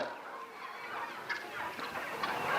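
Country chickens on a free-range poultry farm cluck and gobble in an overlapping flock chatter, moderately distant, with no voices.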